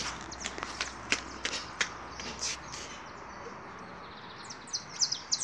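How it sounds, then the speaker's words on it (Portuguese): Small birds chirp in short high bursts, fairly faint and scattered, with soft rustling and light thumps in between. "Ali os passarinhos, que bonitinho. Ele está cantando."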